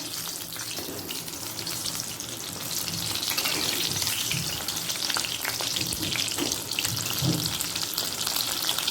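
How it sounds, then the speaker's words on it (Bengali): Topse fish fritters frying in oil on a gas flame turned low, giving a steady, loud sizzle with faint stirring and scraping throughout. "লোয়ে করে দিয়ে বাকিটা ভেজে নিয়ে আবার উল্টে দেব"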